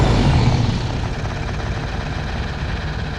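Synthesized van engine made with the Igniter plugin, a loud droning rumble that eases slightly in pitch and intensity as the van slows toward a halt, continuous and close.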